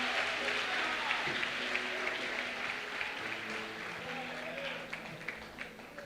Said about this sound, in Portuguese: Será que você pode aplaudir ao Senhor?